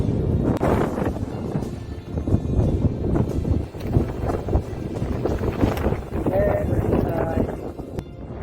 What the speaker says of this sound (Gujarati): એવો આ જોખમી પવનની આ વેદના મને સંભળાઈ રહી છે